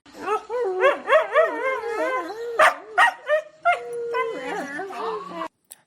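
Husky dogs whining, yipping and giving short barks in a lively, pitched sequence, close and fairly loud, with a few louder bursts midway and a brief pause near the end.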